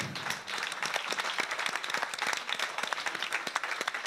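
Sustained audience applause fills a hall during the introduction of stylists at a Montpellier event, dense and even throughout with no voices over it.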